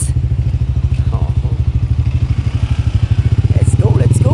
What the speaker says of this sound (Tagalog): Tatlo tayo din eh sa motor.